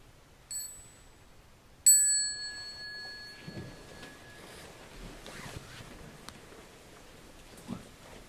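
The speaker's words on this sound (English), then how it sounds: "Here's the bell for standing." A meditation bell at a retreat rings twice, each a clear sustained ding that rings out and slowly fades, with soft rustling and movement of a group in a quiet room afterward.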